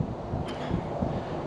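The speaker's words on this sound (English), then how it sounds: "Crazy windy today, out of nowhere." Strong wind buffets the microphone outdoors on coastal Georgia bass-fishing waters, a steady low rumble with gusty swells and no speech, fairly faint throughout.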